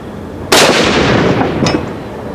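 A single loud .416 Ruger rifle shot firing a Barnes 350-grain TSX-tipped load at an outdoor range, a sharp blast followed by a rolling echo that fades over about two seconds, with no talking.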